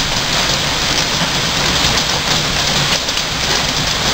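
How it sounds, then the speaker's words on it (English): Heavy rain pours down outdoors in a dense, unbroken hiss, loud and steady throughout, with no voices over it. "Now it's raining harder."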